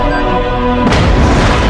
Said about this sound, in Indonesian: Akhirnya bahan peledak meledak